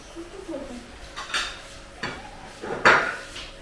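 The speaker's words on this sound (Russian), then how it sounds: "Дети накрывают стол." Children setting a table at home, with dishes and cutlery clinking in a few distinct bursts, moderately close, over quiet room tone and faint background voices.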